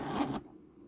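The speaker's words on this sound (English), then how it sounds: "is a tight zipper" A tight zipper on a Dooney & Bourke bag gives one quick, rasping pull of under half a second, close and fairly loud, then stops into near quiet.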